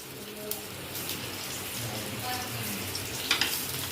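Two flour-coated bangda mackerel fry on a hot tawa with a steady, close sizzle and crackle throughout, under a low household background and a few light clinks.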